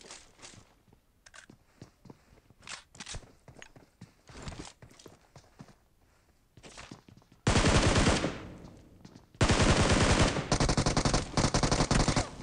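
Gunfire in PUBG Mobile on the Livik map: scattered single shots and short bursts at first, then two long loud stretches of rapid automatic fire close by.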